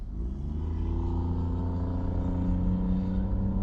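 A car drives with a steady low engine and road rumble heard from inside the cabin, a continuous drone with the windshield faintly rattling.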